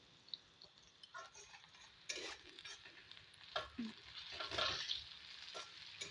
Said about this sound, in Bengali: আমি আরও একটু সামান্য ভেজে নিচ্ছি